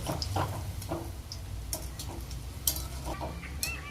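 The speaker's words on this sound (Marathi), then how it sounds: "तेल गरम करायला ठेवलेलं आहे तर आपण एक एक तळून घेऊया" Bottle gourd kofta dumplings frying in hot oil, a soft steady sizzle with scattered small crackles and pops, quiet and close.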